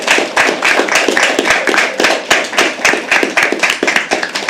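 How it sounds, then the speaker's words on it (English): Audience at a live poetry open mic clapping steadily, with many sharp hand claps forming a dense, close, fairly loud patter that runs the whole time with no talk. "Can we all please clap for them?"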